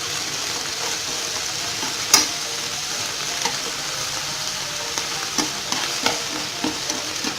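Pre-blanched mustard greens stir-frying in a pan, a steady sizzling hiss with occasional clicks and scrapes of the spatula, close and continuous without speech.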